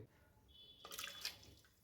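Boiled beetroot, carrot and tomato cooking water is poured out of a pressure cooker through a strainer, giving a brief, faint trickle and splash midway through an otherwise quiet moment.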